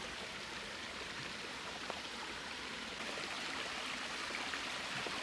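Water from a waterfall rushes down through woodland trees, heard as a steady, soft broadband hiss at moderate distance, continuous and unbroken, with no talking.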